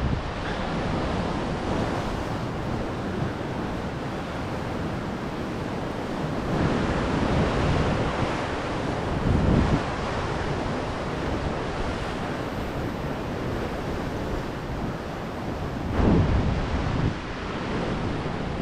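Sea waves wash steadily against the Croatian coast beside stone houses near Primosten, a continuous loud surf roar with gusty wind noise buffeting the microphone and occasional heavier surges.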